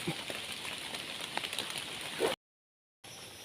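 Steady rain patters on surfaces with a dense, even hiss, broken by a short stretch of silence before resuming.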